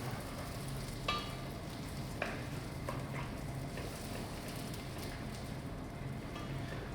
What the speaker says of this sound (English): We're going to coat the rice